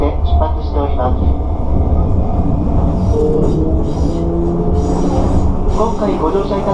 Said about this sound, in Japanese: ただいま列車は柏台駅に向けて出発しております。